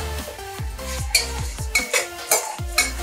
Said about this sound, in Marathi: आता मी याच्यावर डाळ ही चांगली खरपूस भाजून द्यायची, लाल कलर येईपर्यंत भाजायची डाळ.